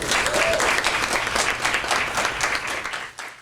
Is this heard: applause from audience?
yes